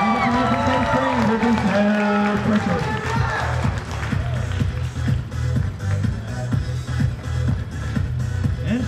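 Crowd in a school gym clapping at a high school wrestling senior night, a steady patter of applause and shuffling that follows an announcer's voice over the PA.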